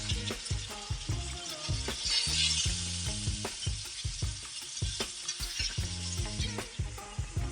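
Chicken breast fillet sizzles and crackles in a hot pan, with stirring and scraping of a utensil punctuating the steady frying hiss, close up.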